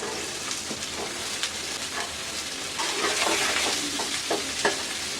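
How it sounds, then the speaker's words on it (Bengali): Onions sizzle steadily in hot oil up close, with intermittent scraping and stirring taps that grow a bit busier partway through. "পেঁয়াজটা ভাজা ভাজা হয়ে গেছে।"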